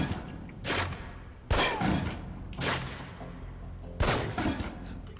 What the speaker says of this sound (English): take some shots at the target